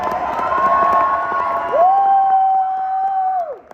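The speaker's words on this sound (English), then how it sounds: "Let's give it up one more time for them." An audience at a sixth grade promotion ceremony cheers and applauds loudly for the students, a dense steady roar of clapping and whoops with a long sustained tone through the second half before fading at the end.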